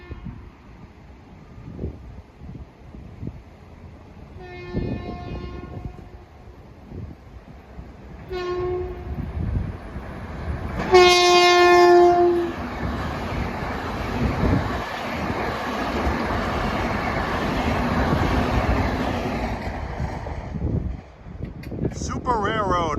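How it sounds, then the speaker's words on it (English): An LIRR electric commuter train, number 2051 from Ronkonkoma to Grand Central, approaches on the double-track Ronkonkoma Line, giving a short distant horn blast, a second, then a loud close one before a rushing rumble of passing cars amid wind noise. "Approaching now at 1:31 is train 2051 from Ronkonkoma to Grand Central."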